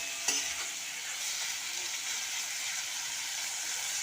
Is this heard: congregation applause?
no